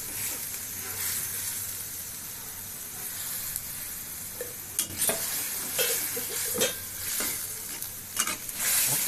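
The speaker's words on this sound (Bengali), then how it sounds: "এখন এটা একটু কষাবো" Chili powder and salt are stirred and sautéed in a sizzling pan. A steady fry hiss runs throughout, with a few sharper scrapes and clinks of the stirring spoon near the end, and no voices.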